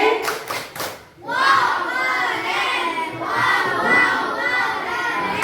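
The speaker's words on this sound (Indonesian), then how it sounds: "Tepuk tangan untuk kelompok 4." Fifth-grade schoolchildren in an Indonesian classroom give a group a short burst of hand clapping. Lively voices and shouting follow and run on after it.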